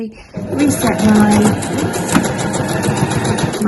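A sewing machine runs steadily along the side seams of a weekender bag in white thread, a close, loud, continuous whir with a voice talking over part of it.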